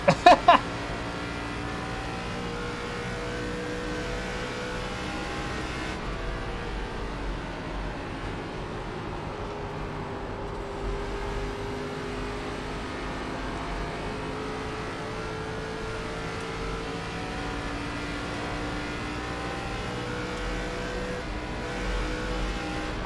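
A race car in the iRacing sim drones steadily at close range for the whole stretch, engine held at a constant pitch, with a brief sharp burst at the start and another near the end.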